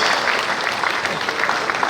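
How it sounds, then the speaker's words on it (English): Steady, loud applause from a conference audience at a builders' conference in Lagos, honouring Madam, filling the hall continuously with dense overlapping claps. "let's put our hands together for Madam"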